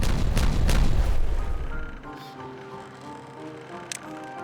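Explosions set off in the video game Timberborn: a loud, rumbling boom fills the opening two seconds, then fades into a quieter mechanical hum with a single small click near the end.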